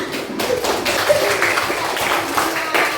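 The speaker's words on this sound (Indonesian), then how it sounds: "tepuk tangan." A classroom of children claps together in a short, lively burst of uneven hand claps, fairly close and loud, with no clear talk over it.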